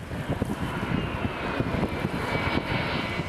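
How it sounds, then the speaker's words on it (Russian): Engine drone of a Be-200 amphibious firefighting aircraft working over a lake during wildfires, a continuous loud roar with wind buffeting the microphone. "Б-200 или амфибия зачерпывает воду прямо с озера и скидывает на пламя"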